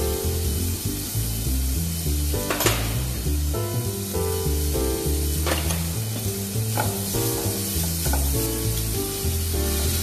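Onion, garlic, carrot, leek and celery sauté in a hot pan, sizzling steadily while a utensil scrapes and stirs now and then, close and loud with no talking.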